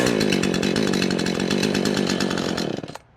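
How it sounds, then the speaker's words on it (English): A very old Husqvarna chainsaw runs loud and close at a steady high rev, then cuts out abruptly near the end and falls silent. "that is the start sequence that hopefully will get you to start that Husky as easily as I started this very old saw"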